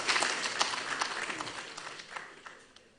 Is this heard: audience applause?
yes